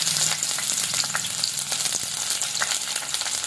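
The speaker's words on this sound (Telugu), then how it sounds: "ఆయిల్ హీట్ అయినాక మనం ఇందులోని పచ్చిమిర్చి ఆనియన్స్ వేసుకుందాం" Green chillies and onions fry in hot oil for a ladyfinger curry, giving a continuous crackling sizzle with small pops and stirring sounds, close and alone.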